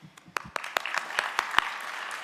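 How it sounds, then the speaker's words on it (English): Graduation ceremony audience applause starts as scattered claps, then builds into a steady round of clapping from a crowd at moderate distance. "I'd like to start by giving you guys a round of applause"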